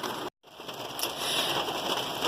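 Steady rain patters and hisses across the surface, broken by a brief dropout near the start, then continuing evenly at moderate loudness.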